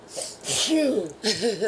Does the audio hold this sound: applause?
no